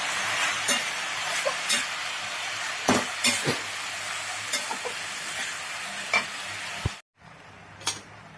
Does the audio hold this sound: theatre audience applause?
no